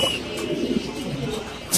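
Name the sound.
mini king pigeons cooing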